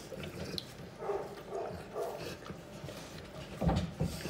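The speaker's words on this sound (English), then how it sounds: "How cute is this puppy?" A small puppy whimpers and makes soft dog sounds close by, quiet and intermittent, with a slightly louder yelp near the end.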